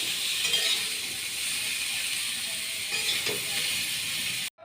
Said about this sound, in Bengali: ব্রোকলিগুলো ভাজা হয়ে গেছে